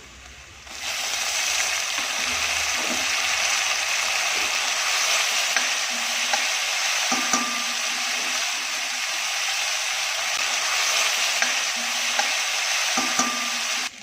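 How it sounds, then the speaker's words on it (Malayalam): Prawns hit a hot pan for a Kuttanad-style fry, giving a loud, continuous hiss and sizzle with occasional stirring clinks, close up and without talk. "ഇനി ചെമ്മീൻ ഇടുവാണ്."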